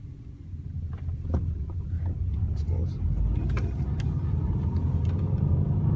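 Manual stick shift car engine starting and running, a steady low rumbling idle heard from inside the car, close and continuous, with brief talk over it.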